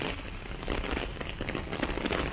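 Steady rain patters and crackles on a walking and biking path in Hong Kong, a dense, even downpour close by with no talking.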